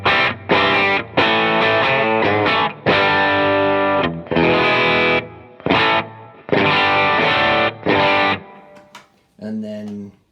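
Electric guitar played through a Strymon Iridium amp modeler with a Prism boost pedal, loud, thick and distorted, in chunky chords and phrases with short pauses between, ending on a softer run.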